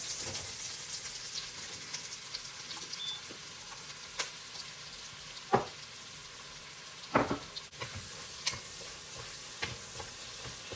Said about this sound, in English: I'm just gonna start with the onions, sweat them out.